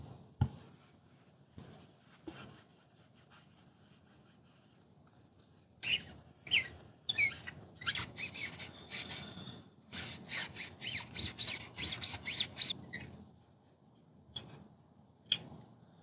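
A cloth rubs and wipes over disassembled rifle parts soaked in CLP, making faint, close, scratchy strokes that come in irregular bursts with quiet gaps, no talk.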